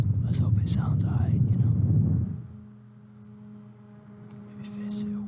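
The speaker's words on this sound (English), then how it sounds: "I'm actually going to plug this fan into a portable battery bank and" A small electric fan running on a portable battery bank gives a low, steady motor hum with a tonal whine. It starts after a couple of seconds of soft, close whispering and then runs on alone.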